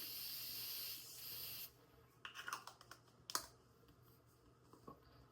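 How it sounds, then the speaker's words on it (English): A sustained hiss of fine makeup setting spray onto a face for under two seconds, followed by a few soft clicks and taps nearby. "I'm gonna go back in with the continuous Morphe spray"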